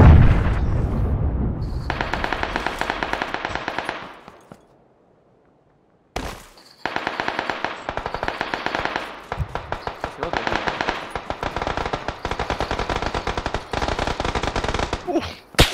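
Rapid automatic gunfire in PUBG, sustained loud bursts of shots that pause briefly and resume as a long rattling stream, with occasional sharper blasts and faint voices underneath.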